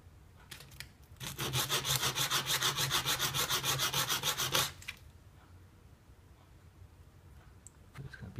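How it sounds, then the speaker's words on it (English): Sheet of 400 grit sandpaper rubbing a small Delrin stabilizer part for a Tamiya Mini 4WD car, a rapid back-and-forth rasp of about twenty even strokes lasting several seconds, close and alone, then quiet handling. "Then we're gonna using number 400 sandpaper and sand up, make it a little bit even."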